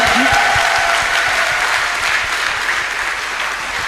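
A church congregation claps and cheers loudly and steadily for Jesus during a worship testimony, dense applause filling the room with no pauses.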